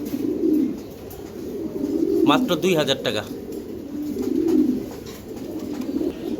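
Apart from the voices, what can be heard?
giribaj pigeons cooing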